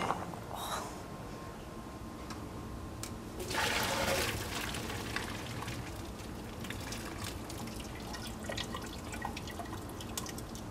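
Water from cooked pasta for a healthier macaroni and cheese pours out in a soft, continuous rushing and splashing stream, with a brief louder surge partway through and faint drips after; no one speaks.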